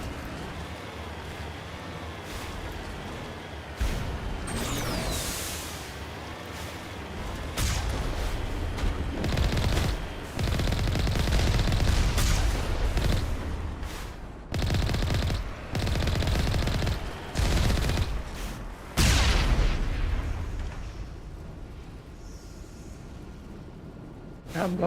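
Gunfire from a Mass Effect Legendary Edition firefight comes as loud, repeated bursts of automatic shots and heavy booms, broken by short lulls over the length of the fight.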